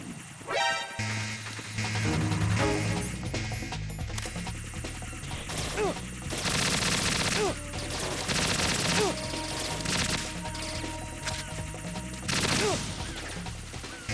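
Gunfire from the video game Metal Gear Solid 2, with repeated sharp shots and impacts over a dense game soundtrack, loud and continuous.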